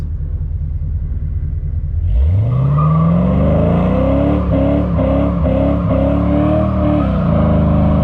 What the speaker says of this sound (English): This exhaust is definitely a lot more quiet, which is good.